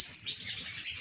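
A kept konin songbird chirps close and loud, a quick series of high, sharp tweets in short bursts with brief gaps, heard alone without talk.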